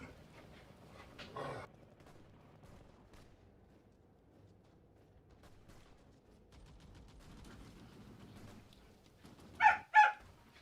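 Faint dogs bark far off in the background over a quiet, murmuring room. There is a soft bark early on, then two sharper barks close together near the end.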